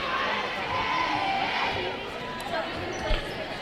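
A crowd murmurs and calls out at a girls' high school basketball game between Roseburg and Mountain View, with a basketball bouncing, sneakers moving and a brief thud, picked up loudly by a courtside crowd microphone.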